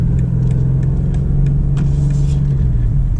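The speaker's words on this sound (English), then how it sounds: "the second you hit the gas, you hear that twin turbo V8 and it comes to life" A BMW M850 convertible with a twin-turbo V8 accelerates, giving a loud, steady low engine drone that holds throughout with a slight pitch shift near the end, heard from the cabin.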